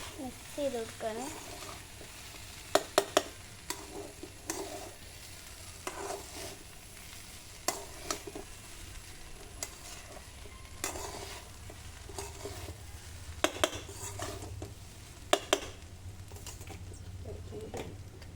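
Fried rice is stirred and mixed in a pan with intermittent scraping clacks of the utensil over a low frying sizzle. Sharp clicks come in scattered clusters while quiet background noise continues between them.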